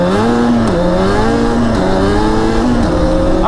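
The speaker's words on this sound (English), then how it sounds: "I'm gonna rep through the gears really fast." ATV engine revving hard while the rider shifts rapidly up through the gears, a loud, steady drone whose pitch climbs, drops briefly at each shift, then climbs again.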